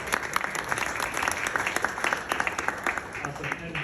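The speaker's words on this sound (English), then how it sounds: "Big round of applause." Audience at a deep learning class social breaks into applause, dense close clapping from a sizable crowd with a voice or two murmuring underneath.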